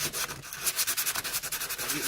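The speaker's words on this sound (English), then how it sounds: "sanding." Rapid back-and-forth sanding on wood, a rhythmic scratchy rasp repeating several times a second, close and fairly loud.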